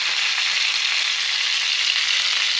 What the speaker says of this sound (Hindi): हमारी राई तड़कने लगी है तो अब हम इसमें प्याज, हरी मिर्च और कड़ी पत्ता ऐड कर देंगे